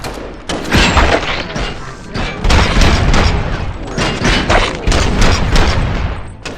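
Dense, rapid gunfire and booming blasts in the video game Robocop: Rogue City fill the whole stretch, loud and close, with overlapping bursts and no pauses.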